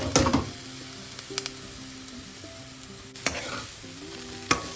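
Breadfruit thoran cooking in a pan on a low flame, giving a close, steady sizzle broken by a few sharp scrapes and clinks of stirring.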